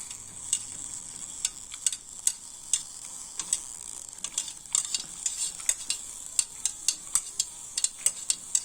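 Heated water is stirred in a laboratory vessel, and a stirring rod gives repeated light ticking taps against the glass over a faint hiss. The sound is soft and close, with no talk.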